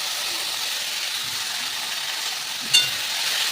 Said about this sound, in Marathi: आता आपण ही मेथीची भाजी टाकून घेणार आहोत आणि मेथीची भाजी टाकल्याच्या नंतर चांगलं असं हलवून घ्यायचं आहे